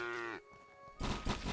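Cow mooing in the video game Craftopia, one long low moo at the start, followed by other game noises.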